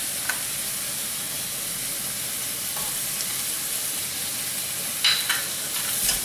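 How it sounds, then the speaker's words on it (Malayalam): Onion, ginger and green chili sauté in a pan for a chicken curry, making a soft, steady sizzle with occasional stirring scrapes and clinks, close by and fairly quiet. "ഇതുകൂടി ഒന്ന് വഴറ്റിയെടുക്കാം."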